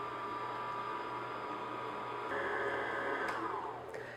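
An electric mixer beats choux pastry paste for Paris-Brest with a steady, loud whirring drone. The pitch shifts upward partway through, then the motor winds down near the end.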